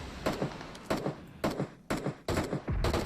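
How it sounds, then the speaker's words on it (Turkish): Gunfire in PUBG, a run of six sharp shots at irregular intervals, loud and fairly close, each with a short echoing tail and no talk over them. "Biri vuruyor onlara ha biri vuruyor"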